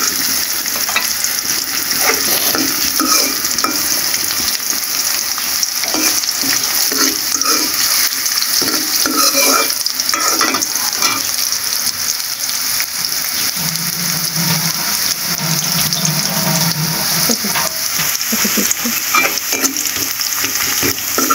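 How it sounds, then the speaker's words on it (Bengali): Onions fry in hot oil for a thin kalai and masoor dal, a dense continuous sizzle with occasional stirring scrapes, steady and close for the whole stretch, no talk. "পেঁয়াজটা লাল হওয়া পর্যন্ত ভাজতে থাকবো।"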